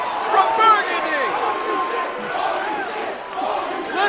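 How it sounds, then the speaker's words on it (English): A crowd at a House of Glory wrestling match roars and cheers in a loud, sustained wash of voices, with shouts rising and falling over a few seconds and a commentator talking over it. "Listen to this crowd."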